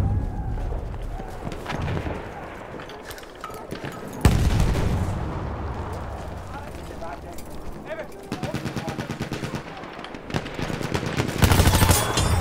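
Gunfire in the World War I shooter Battlefield 1, rapid automatic bursts and single shots crackling at a moderate distance, with a heavy boom near the start and someone talking over the shooting.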